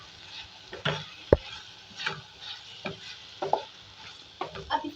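Chicken roll filling with soy sauce is stirred in a pan up close, giving a soft background sizzle with a handful of scraping spatula strokes and one sharp knock against the pan.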